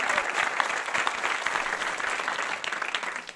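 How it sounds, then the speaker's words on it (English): Studio audience applause on a comedy panel show, a dense, steady burst of clapping that fills the whole short moment without talk. "Can we have a round of applause for Terry Wogan?"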